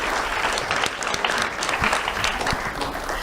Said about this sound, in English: Let's have a round of applause for Shannon Williamson.